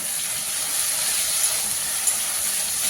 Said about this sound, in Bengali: আলু খুব ভালোভাবে ভেজে নিতে হবে।